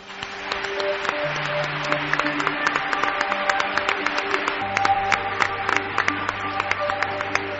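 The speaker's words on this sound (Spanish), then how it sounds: "¿cómo suenan los aplausos, amigos? Es fuerte, ¿eh?" Steady applause from a studio audience at a Spanish radio programme, a dense continuous patter of many hands with a music bed sustained underneath, fairly loud and unbroken throughout.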